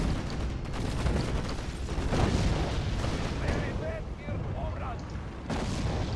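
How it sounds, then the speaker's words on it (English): Howitzer artillery rumbles and booms in the Rise of the Reds real-time strategy game, a dense, steady barrage of battle noise that runs through the whole stretch at fairly high level, with a commentator talking over it. "Howitzer attack."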